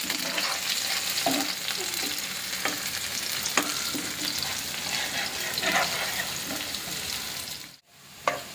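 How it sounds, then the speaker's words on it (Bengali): Whole spices sizzle in hot oil as a tempering for beef nihari, a steady dense crackle with occasional stirring clinks, continuous and close, dropping out briefly near the end. "এই যে ফোড়ন দিয়ে দিলাম"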